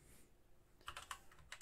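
Computer keyboard typing in a short burst of several quick, fairly quiet keystrokes following a brief lull, with no voices present.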